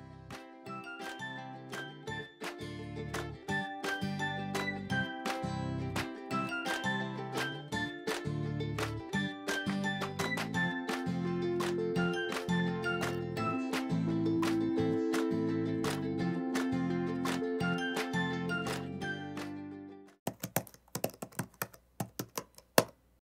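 A Silhouette cutting machine cuts a blue sticker sheet with a steady, tonal motor whine and fast ticking clicks for about twenty seconds, then stops with a few scattered clicks as it finishes, close and quiet with no voices.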